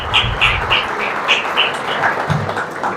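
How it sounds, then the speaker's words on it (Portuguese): Applause for a speaker at a Spiritist lecture fills the hall, a continuous, fairly loud clapping with a faint rhythmic pattern and no voices over it. "Palmas para ele"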